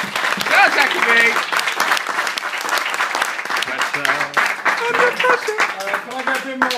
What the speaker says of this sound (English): Can I get a bit more of a round of applause?